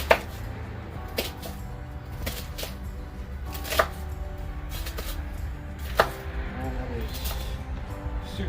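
A knife chopping homegrown Rancho tomatoes on a cutting board: a few sharp, separate thuds spaced a second or two apart, with a soft wet undertone between strikes.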